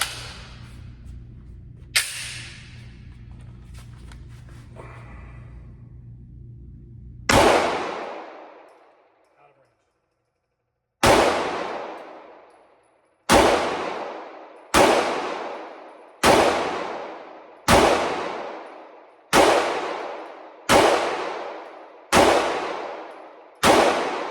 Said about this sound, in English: I'm gonna shoot towards it